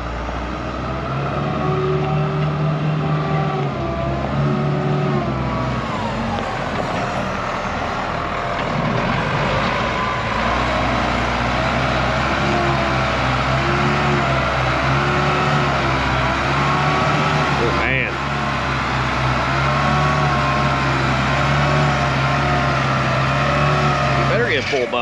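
A pickup truck drives off slowly over a redneck-paved driveway, its steady low engine rumble holding close and loud throughout with a brief dip midway, people talking over it.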